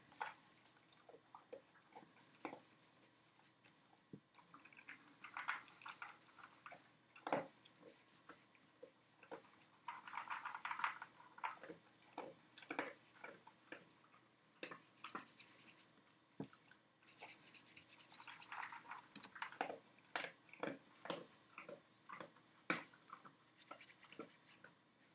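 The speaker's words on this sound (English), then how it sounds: "Sound effects today provided by Maddie in the kitchen with the munchies." Someone munches crunchy biscuits in a kitchen: faint, irregular crunches and small clicks scattered over a quiet background, with no talking.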